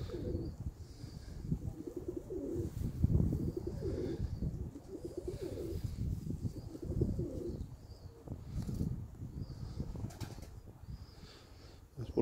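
Short-beaked Iraqi Mosul fancy pigeons let out in the open air coo in soft, repeated low rolling phrases, fairly close and quiet, with faint flutters and light background noise between calls.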